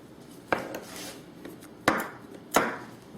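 Three crisp knife chops on dough against a floured wooden board, evenly spaced and close, each a sharp tap with a brief scraping tail, in a quiet kitchen while T-rings are being shaped.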